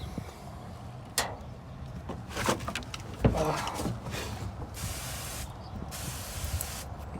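A hose sprays water in several hissing bursts against a pickup truck's rear window, some short and sharp, others longer, with a knock partway through.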